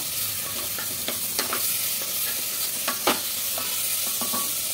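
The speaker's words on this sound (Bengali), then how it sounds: "চিকেনটা দিয়ে এবার নাড়াচাড়া করে নেব।" Chicken pieces for chicken soup being stirred and fried in a pan, a steady sizzle punctuated by several distinct scrapes and clinks of a spatula, close and clear.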